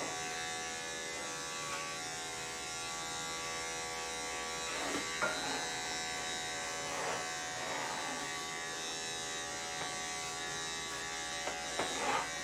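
Andis 5-speed pet clippers buzz steadily while trimming a Mini Goldendoodle's coat, a continuous close electric hum with slight shifts in tone as the blades move through the fur.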